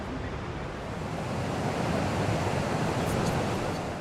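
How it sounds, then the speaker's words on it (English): Whitewater rapids on the Nile River in Uganda roar as a steady, dense wash of rushing water, swelling slightly in the middle, with no voices. "Way bigger rapids and not so many rocks"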